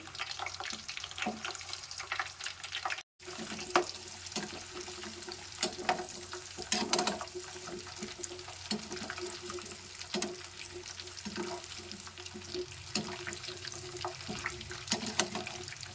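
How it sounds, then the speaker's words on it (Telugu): Indian gooseberries (amla) frying in a batch of oil, a steady crackling sizzle with scattered pops and stirring clatter throughout, close and moderately loud. "ఉసిరికాయలన్నీ ఒకేసారి కాకుండా కొన్ని కొన్ని వేసి వేయించుకోవాలి"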